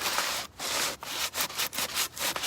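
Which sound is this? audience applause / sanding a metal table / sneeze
sanding a metal table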